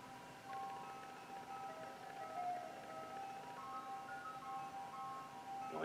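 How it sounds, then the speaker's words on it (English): An ice cream truck jingle plays faintly at night, a thin tinkling melody drifting from a distance and repeating steadily, alone with no voices. "jingle of an ice cream truck"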